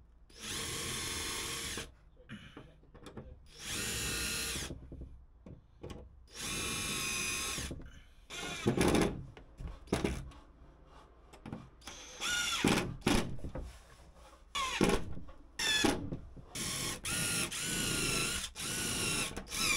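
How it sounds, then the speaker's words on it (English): Power drill driving screws into the hinges of a toilet room door during a narrowboat refit, heard as a series of loud whirring bursts of varying length separated by short pauses, close up with no speech. "I'm going to put my centre hinges in first, screw them in, get them all countersunk and screwed in"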